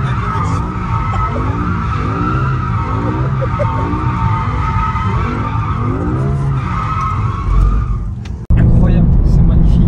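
A BMW M car drifts at full throttle on a track, its engine roaring loud and near while tires skid and squeal in long sweeping waves, ending in an abrupt cut; voices talk over it.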